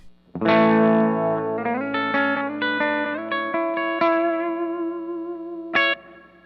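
A clean, dry electric guitar plays a short chord-and-note phrase, ringing sustained notes with a final sharp strum near the end.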